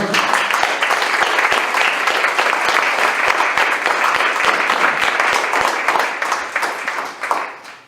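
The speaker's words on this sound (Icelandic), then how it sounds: "Og ég held að ætti bara að klappa fyrir liðinu" An audience applauds the Icelandic team at a homecoming event, sustained dense clapping that runs steadily for several seconds before tapering off at the end, with no talk over it.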